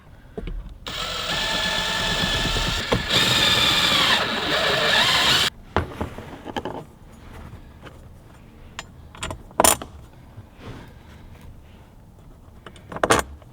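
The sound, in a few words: drilling remaining bolt holes in truck console panel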